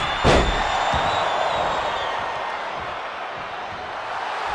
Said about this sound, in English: This capacity crowd is sending him love, and he's sending it right back.